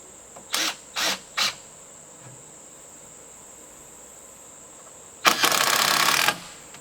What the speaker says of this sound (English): And get these screws run in.